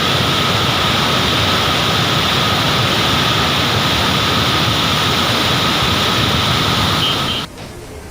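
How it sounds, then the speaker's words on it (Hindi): A flash flood roars through the Miyar valley in Lahaul and Spiti, Himachal Pradesh, a loud, steady, broadband rush of torrential water that continues unbroken before dropping off abruptly near the end. "जहां मियार घाटी में आई फ्लैश फ्लड में सब कुछ बहता चला गया"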